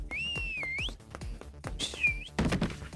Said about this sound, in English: you stick your fingers in your mouth and whistle a sharp, shrill blast